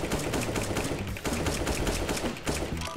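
Rapid bursts of rifle fire from Counter-Strike: Global Offensive while the player strafes quickly side to side, loud, dense and continuous shots with no pauses and no talking.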